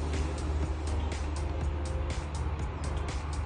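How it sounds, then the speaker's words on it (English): A big truck drives down a road through the woods, a steady low engine rumble that holds at a fairly constant level throughout with no voices. "I hear a big truck coming down the road."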